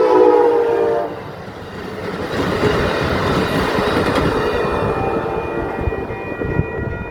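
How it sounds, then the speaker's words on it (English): Amtrak Capitol Corridor 741 passenger train passes close by in Oakland, California, opening with a blaring horn blast, then a steady rumble of wheels and a rhythmic clatter over the rails. "That is Amtrak Capital Corridor 741 on its way to San Jose Diridon Station."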